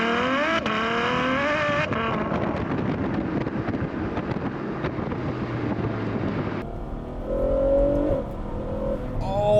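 A front-engine Ferrari dual-clutch V12 roars loudly and close as it revs and downshifts, the pitch stepping down through several gear changes before it drops to a lower rumble near the end.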